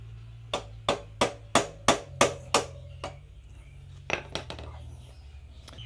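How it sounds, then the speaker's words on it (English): A metal punch hammered against the front brake caliper pin of a Royal Enfield Super Meteor 650: a steady run of about eight sharp, ringing strikes, a pause, then a few lighter, quicker taps, close and clear. "Then with a punch we can punch here and punch the pin out."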